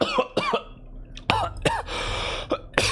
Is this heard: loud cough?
yes